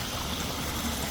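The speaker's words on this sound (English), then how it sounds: "falls in from the waterfall here" Steady broadband rush of flowing water, a continuous trickling stream falling in from a waterfall into a lined garden pond, with no breaks, moderately loud and close.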